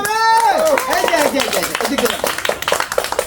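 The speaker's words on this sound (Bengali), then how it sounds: "এই তালি হবে, তালি" A group claps for a Ludo game prize winner at a playful food-challenge event, with scattered rapid hand claps building in the second half, while voices call out and chatter over the start.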